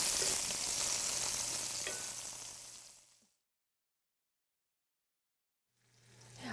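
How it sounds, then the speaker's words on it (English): Prawns and bacon fry in a pan with a loud, steady close sizzle and some stirring, then cut to silence before the sizzling fades back in. "now that our prawns and our bacon have pretty much cooked, I've put them over to one side of the pan"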